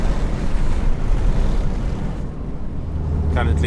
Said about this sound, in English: It's like really, really windy.